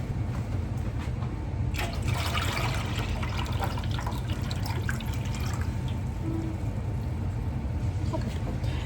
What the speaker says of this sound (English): we're going to be filling the water to the water line